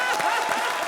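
Studio audience on a comedy show stage breaking into loud, dense applause, a continuous close wash of clapping with a voice faintly audible underneath.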